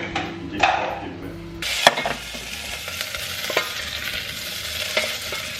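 Onions soften as they fry and are stirred in a pan, a steady sizzle with scraping stir strokes and occasional clinks of the utensil against the pan, close and continuous.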